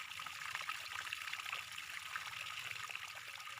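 Water poured into a container for plum infused water, a steady soft trickle and splash running continuously at low volume with no talk.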